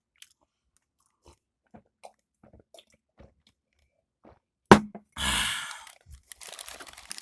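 Someone bites into a tall tower burger with lettuce, giving a close crunch and rustle of wrapper, followed by soft rhythmic chewing; faint quiet sounds precede the bite.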